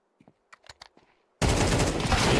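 Gunfire in a Counter-Strike pro league match: a few faint clicks and light taps, then an abrupt, loud, sustained burst of shots that fills the rest of the moment.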